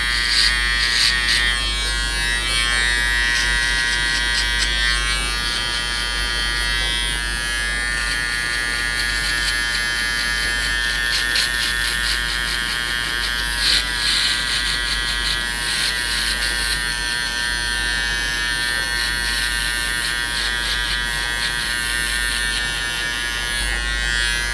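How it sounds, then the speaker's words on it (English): A foil shaver buzzes steadily and loudly up close during a barber's skin fade, its drone shifting slightly as it moves over hair, with no talking. "I'm going to follow that by using a foil shaver and completely board out this bottom part"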